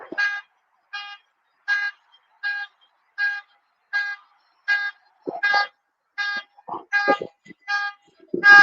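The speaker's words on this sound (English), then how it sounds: "Turn that alarm off." A car alarm repeats a loud, evenly spaced electronic tone about once a second. Near the end, brief lower knocks and bumps break in between the beeps.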